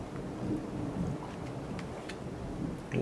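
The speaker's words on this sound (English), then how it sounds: "More thunder." Thunder rumbles low and continuous through steady rain, a distant rolling storm heard alone for the whole stretch without voices.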